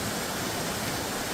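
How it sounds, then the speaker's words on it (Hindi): Himalayan waterfall beside a boulder, about six kilometres from Khati on the trek to Dwali, a loud steady roar of falling water heard up close with no other sounds. "सुंदर झरना, खाली खाती से 6 किलोमीटर की दूरी पर।"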